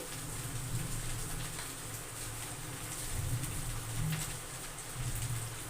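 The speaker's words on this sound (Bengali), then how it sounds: "বাইরে প্রচণ্ড বৃষ্টি এত আওয়াজ হচ্ছে" Heavy rain falls outside a home kitchen, a steady broadband hiss of drops on surfaces that holds constant throughout, with faint low cooing from pigeons or doves surfacing now and then beneath it.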